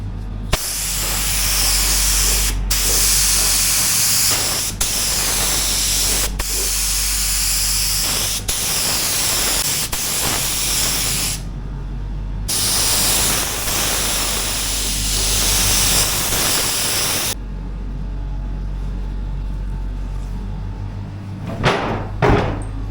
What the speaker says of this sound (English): I'm just going to put a bit of paint on and dry it